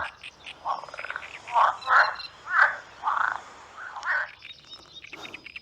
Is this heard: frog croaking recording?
yes